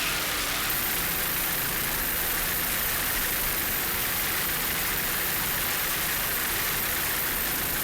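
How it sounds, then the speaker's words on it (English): A 32-foot Doug Wright superboat racing in the stock class off Hollywood Beach, its engine a steady, unbroken broadband roar with heavy wind and water hiss throughout. "their 32-foot Doug Wright, running in the Superboat stock class here in Hollywood Beach"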